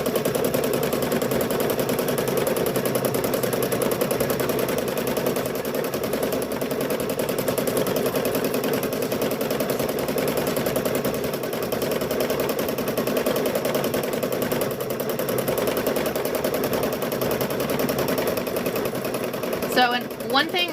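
A sewing machine runs steadily while quilting, keeping up a fast, continuous mechanical whir and rattle for the whole stretch, with a brief clatter right at the end.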